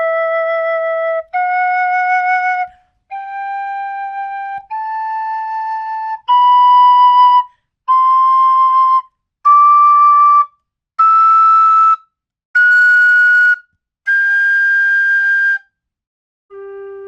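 A 3D-printed low G tin whistle plays a rising series of separate held notes, each sustained about a second with short gaps, clear and fairly loud.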